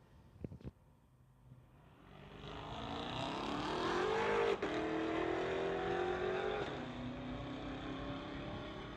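A 2022 Tesla Model Y and a 2014 Corvette launch side by side at a drag strip, with a brief pop, then rising engine roar climbing in pitch as the cars accelerate away, loud and sustained.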